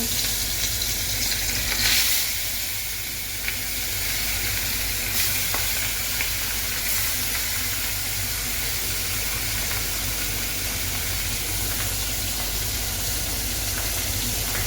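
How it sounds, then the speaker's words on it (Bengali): Fish frying in oil in a wok, a loud continuous sizzle with steady hiss and occasional stirring scrapes, close and alone without talk throughout. "মাছটা ভাজা দিয়ে দিচ্ছি"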